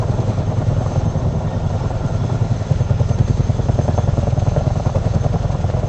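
A CH-47 Chinook helicopter in flight, heard from close by as a loud, continuous, rapidly pulsing rotor thump over a dense engine drone, with no voices.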